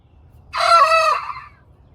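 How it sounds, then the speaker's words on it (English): A single rooster crows once in a long, clear, loud call from a farmyard, standing alone over faint low background noise. "there's our fourth rooster"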